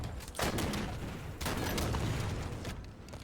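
Rapid bursts of video game gunfire fill the stretch, two dense volleys with a short lull between, loud and close, with no speech over them.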